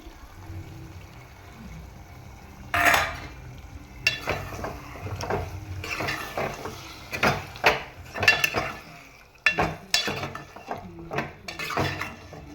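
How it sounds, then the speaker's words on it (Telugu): Sliced cucumbers tossed into chicken cooking in a pan, then stirred with a spoon: a sizzling base with repeated scraping and clinking strokes against the metal, close and fairly loud. "ఇప్పుడు దోసకాయలు వేస్తున్నాను"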